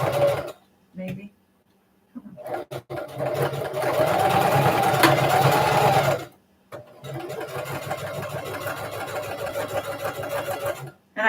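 A home sewing machine stitches along the edge of pajama fabric in two sustained runs of steady, rapid whirring, close and loud, with short pauses between them and a brief spoken comment at the start.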